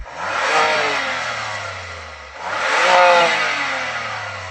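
A BMW M2 engine revs up twice, each long rising roar climbing high before falling back, loud and close with no voices.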